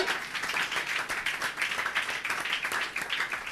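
Church congregation clapping together, steady rhythmic applause from many hands, fairly close and continuous.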